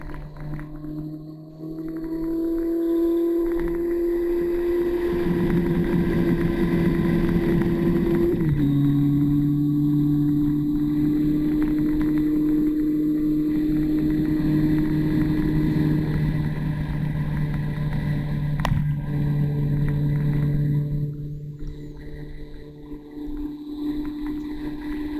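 Steady car engine drone pulling under positive throttle through a bend on a winding country road, with a held tone that steps in pitch around a gear change and continues loud and close for the whole stretch.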